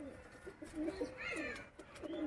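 Soft coos from a breeding female local pigeon in a loft rise and fall in short phrases at close range, with faint background noise between calls.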